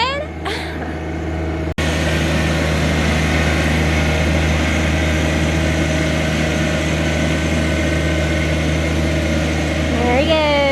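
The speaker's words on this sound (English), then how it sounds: "He's still driving the tractor." A tractor engine runs steadily at a constant idle-like drone close by, with a brief knock early on and a voice speaking over it.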